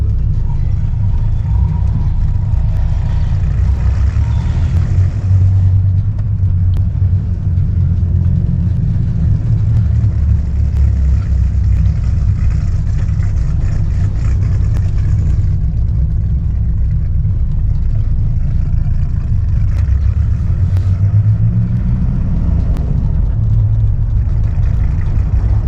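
A 1997 Dodge Viper GTS V10 run at full throttle from inside the car, a loud, steady low engine drone with surges and dips in pitch, no speech.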